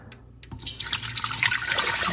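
After a couple of soft taps, water starts pouring steadily into an Instant Pot, a bright splashing stream that grows louder.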